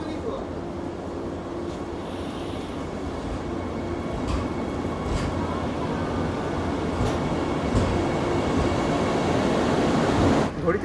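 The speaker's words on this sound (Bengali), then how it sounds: "ট্রেন ছেড়ে দিল নিউ জলপাইগুড়ি থেকে কামাখ্যার উদ্দেশ্যে।" A train pulls out of New Jalpaiguri station, bound for Kamakhya, in the early morning: a steady, broad rumble of rolling wagons that grows gradually louder and fuller, with faint metallic clatter over the continuous roar.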